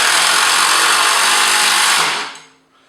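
A Hitachi 18 volt combi drill drives a large screw into wood, a loud, close, steady whir and grind that winds down and stops after about two seconds.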